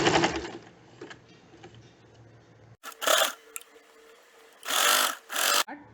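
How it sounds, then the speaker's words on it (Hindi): A sewing machine stitches the gathered edge of a puff sleeve in two short, close runs of rapid needle clatter, separated by quiet handling sounds and pauses. "तो इस एज को बराबर गैदर के साथ बिठा करके स्टिच करें।"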